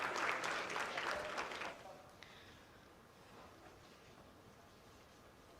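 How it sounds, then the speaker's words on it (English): A crowd claps for a couple of seconds, fairly faint and distant, then the applause fades out into quiet room noise. "Oh, they're clapping something."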